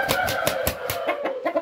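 A rooster clucks in a quick series of short, rhythmic pulses, fairly close and steady, with no voices.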